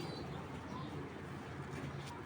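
A female racing pigeon coos softly in low, repeated murmurs against a quiet indoor background, with faint chirps from other birds nearby.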